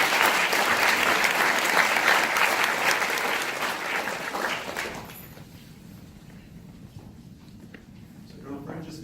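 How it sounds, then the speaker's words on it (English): A panel-session audience gives a round of applause for the first panelist, dense clapping from many hands that fades out after about five seconds, leaving quiet room noise. "let's have a round of applause for our first panelist"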